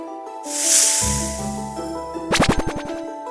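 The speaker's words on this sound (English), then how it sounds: "snake," Snake hiss, a loud breathy burst near the start, then a low rumbling tone beneath light music and a quick plucked flourish.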